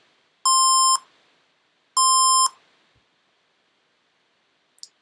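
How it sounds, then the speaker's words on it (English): Two identical half-second electronic beeps from a computer finishing a firewall setup, spaced about a second and a half apart and clear against near silence, followed by a faint click. "that beep means the firewall is done"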